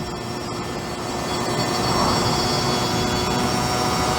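Aprilia RX50 50cc motorbike from 2009 with about 22,000 miles, ridden at a steady speed on a quiet A road, its engine droning in a constant whine mixed with rushing wind.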